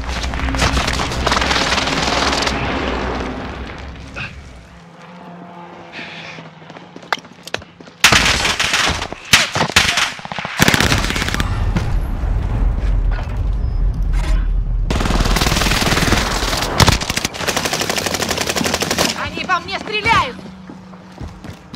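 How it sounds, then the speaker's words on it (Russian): Explosions and heavy gunfire in Call of Duty Warzone during a precision airstrike, loud booming bursts and rapid automatic fire in dense clusters separated by brief lulls, with in-game voice callouts heard between. "Они наносят точечный авиаудар!"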